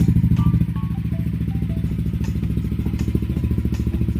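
A Yamaha Nmax V2 scooter fitted with a new JVT V3 exhaust pipe idles close up, its loud, throbbing engine pulse running steadily with a few light clatters and thumps on top.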